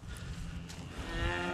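Cattle calves mooing in a pen, a couple of low drawn-out moos close by with no talk.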